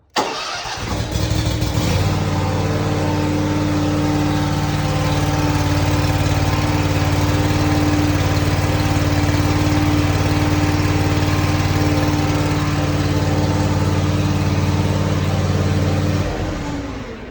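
A Gravely Pro Turn 160 zero-turn mower engine cranks briefly, catches and settles into a loud, steady idle with a strong low hum, running alone and close until it cuts off near the end.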